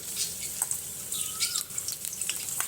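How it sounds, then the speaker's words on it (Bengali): Chopped garlic sizzles in hot oil in a pan, a soft continuous crackle with scattered pops and a few light stirring clinks. "এবার আমি রসুন কুচি দিয়ে দিচ্ছি"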